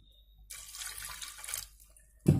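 Water pours into a pressure cooker holding kabuli chickpeas, a steady splashing stream running for under two seconds, close and fairly loud, ending with a sudden heavy thud.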